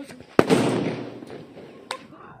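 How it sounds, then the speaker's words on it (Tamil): Lakshmi, kuruvi and auto bomb firecrackers set off together for Diwali: one sharp loud blast followed by crackling that fades, then a second smaller pop, with faint voices in the background. "ஒரு லக்ஷ்மி வெடி, ஒரு குருவி வெடி, ஒரு ஆட்டோபாம், மூணுத்தையும் சேர்த்து வச்சுருக்கீங்க"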